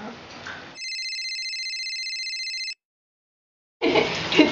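A cell phone rings in a kitchen during cooking, giving a clear electronic ringtone for about two seconds on its own before it stops and talk resumes.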